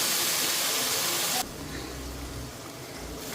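Water splashed into a hot kadai of mustard oil gives a loud broad hiss that cuts off after about a second and a half, leaving a quieter steady steaming bubble beneath.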